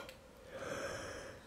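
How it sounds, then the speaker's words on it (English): A person yawns once close up, a drawn-out breathy sound that swells midway and tapers off, with no talking over it. "I'm yawning."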